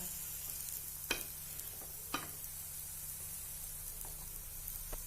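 A cauliflower paratha fries in ghee on a pan with a soft, continuous sizzling hiss, broken by a couple of quick scraping taps, quiet and close.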